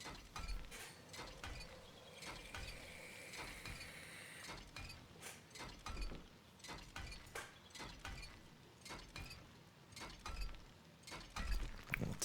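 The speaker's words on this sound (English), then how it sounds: "wrench this one down" In the video game 7 Days to Die, a wrench is used to take down a machine, giving a run of irregular metallic ratcheting clanks and clicks over a quiet background.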